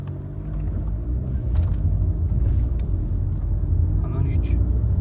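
A VW Golf 7 accelerating, its engine giving a steady low rumble that builds slightly and fills the whole stretch, with faint muffled voices in the background.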